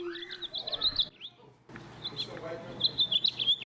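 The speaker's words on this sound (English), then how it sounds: "we get to hear each bird's song" High, bright bird chirps and warbling trills in short bursts, recorded songbird songs played from a book, with a brief pause midway and a faint voice underneath.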